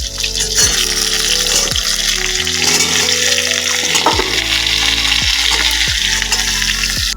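Close, loud, continuous sizzling as vegetables and stems fry in a kadai with panch phoron and chilli, with stirring clatter and a steady background melody underneath.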